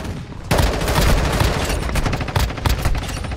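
Automatic gunfire in the mobile game Warzone Mobile, loud dense bursts of rapid shots firing almost continuously with brief gaps.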